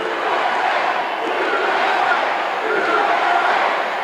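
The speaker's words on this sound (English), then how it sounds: "You hear that? USA, USA, USA, USA." A wrestling arena crowd at a Texas Death coffin match chants USA in unison, a loud, continuous rumble of massed voices with a gently pulsing rhythm, heard without any commentary.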